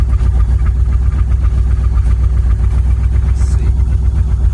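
A steady twin-turbo Mopar car engine idle rumbles close by, low and even throughout with a faint rhythmic throb and no voices.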